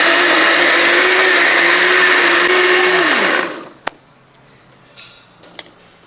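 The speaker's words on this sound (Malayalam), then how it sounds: "ഇനി നമുക്ക് അടച്ചു വെച്ച് നല്ലപോലെ അരച്ചെടുക്കാം." A mixer grinder blends a banana shake in its jar, a loud steady whirring roar that holds for about three seconds, then winds down and stops, leaving a few faint clicks and small handling sounds.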